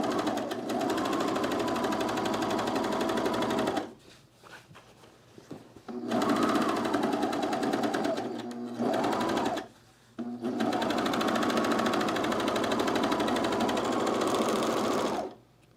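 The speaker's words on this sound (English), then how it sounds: "let's serge this" A serger overlocks the seams of sewn cargo shorts in three long, steady bursts of rapid mechanical whirring, close and loud, separated by short pauses.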